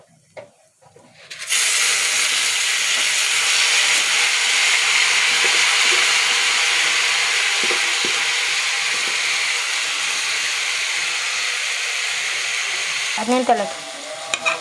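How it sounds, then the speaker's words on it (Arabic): Rice tipped into hot pot of fried vermicelli for Egyptian koshari bursts into a loud, steady sizzle and hiss after a brief quiet start, with stirring scrapes near the end and a voice briefly counting at the start. "ونحط الرز ونقلب كده تقليبه، الرز يمسك من الشعرية"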